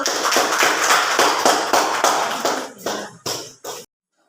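A classroom of students claps in a dense burst of applause that thins into a few scattered claps before stopping abruptly.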